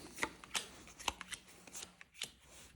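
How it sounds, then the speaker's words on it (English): A deck of game cards is shuffled close by, giving quiet, crisp riffling bursts in an irregular rhythm of about ten quick flicks. "take the 9 race cards, shuffle, and deal 1 to each player"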